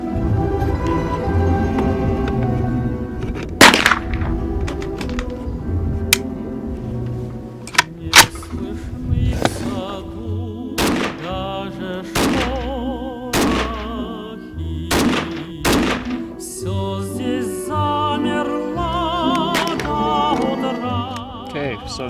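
A Type 81 rifle fires surplus ammunition, a series of sharp, loud single shots spaced a second or two apart, each cracking out over a low background rumble.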